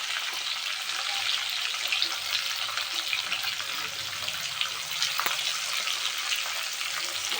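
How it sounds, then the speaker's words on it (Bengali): Pointed gourd pieces fry in oil seasoned with salt and turmeric, in the same oil just used for rohu fish. They give a steady, close, bright hiss of sizzling with occasional small pops and stirring, and no talk. "ভালো করে পটলগুলো আগে ভেজে নিতে হবে"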